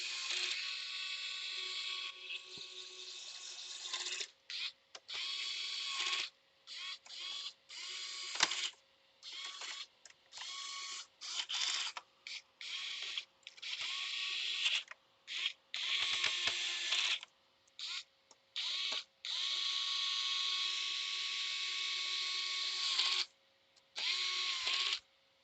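Small screws being driven back into a game console during repair, heard as a run of short whirring bursts from a small electric driver with brief pauses between them, close and fairly quiet.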